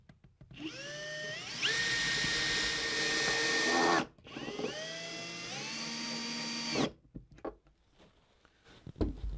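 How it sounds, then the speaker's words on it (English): A power drill whines up loudly in two long bursts, drilling holes for a guitar bridge, pitch rising as it spins up, with a short pause between and rattling handling noise afterward. "I am going to drill my other hole"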